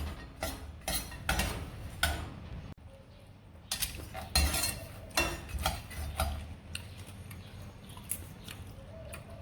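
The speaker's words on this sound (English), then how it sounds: "we just stir until the peanuts are brown" A utensil stirs peanuts roasting in semolina in a stainless steel pan, making repeated scraping and ticking clicks in an uneven rhythm, close and fairly quiet.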